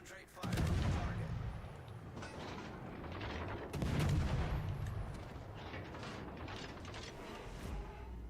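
Warship main guns fire at a cruiser in the naval game World of Warships: Legends, with two heavy booming salvos several seconds apart over a rumbling battle bed.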